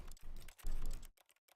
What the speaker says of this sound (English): I love that sound. The keyboard sound.